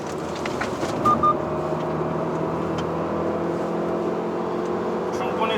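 Car lapping the Inje race circuit under hard acceleration, a steady engine drone and road roar running continuously under an instructor's voice, with a couple of brief tonal blips near the start.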